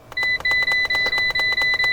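An iCarsoft CR Pro OBD2 diagnostic tool emits a rapid run of short electronic beeps, about a dozen evenly spaced pulses in two seconds, clear and close with no voices.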